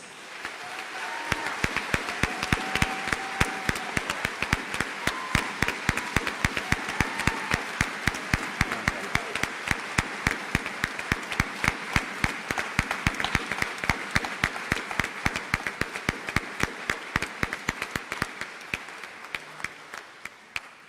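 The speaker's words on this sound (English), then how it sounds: "a heartfelt and gratitude round of applause" Audience at a high school senior awards ceremony applauding a retiring coach and his wife, a long ovation where a crowd's clapping falls into a steady, rhythmic beat, holding strong for about twenty seconds before tapering off.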